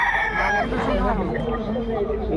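A rooster crows with a long, wavering call, heard close over steady background noise and some nearby chatter.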